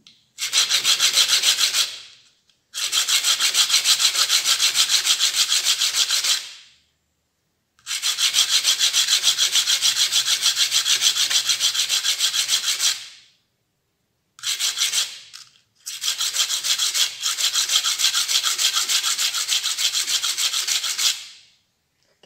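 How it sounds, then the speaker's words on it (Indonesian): A brass ring is rubbed flat on sandpaper in long, steady rasping strokes, five bursts of sanding separated by brief pauses, close and fairly loud with no voices. "Cek kalau sudah datar, terlihat kena amplas semua, berarti sudah datar dia."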